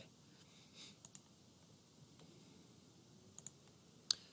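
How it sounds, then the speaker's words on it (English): Computer mouse clicks in design software, a few faint, sharp isolated clicks spaced through a quiet room, with a pair near the end and one louder final click. "now I want to click apply"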